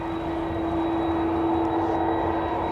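An airliner lifts off in a strong headwind at Dublin Airport, a loud continuous jet roar with a steady whining tone, heard alone and without voices.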